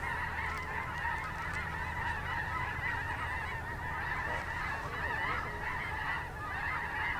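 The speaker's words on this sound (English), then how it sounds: "There's like multiple lines of geese." A large flock of geese honks continuously, many overlapping calls at steady loudness, fairly close and growing fuller throughout.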